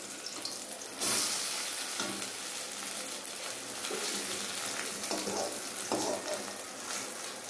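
Taro fritters (kochu bora) frying in a pan, flipped one by one as they brown; a soft continuous crackle of oil runs throughout, with a sharper burst near the start and occasional spatula clinks and shuffles.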